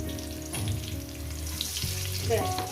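Potatoes fry in oil in a pan for a fish curry, giving a continuous close sizzle with soft crackles, a faint tonal hum underneath, and no talking.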